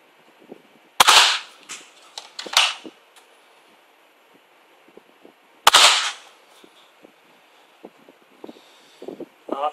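A modified Crossfire bow launches foam darts: three sharp, loud snaps, the first two close together and the third a few seconds later, each followed by a brief rattle, with quiet handling noises between shots and no talking.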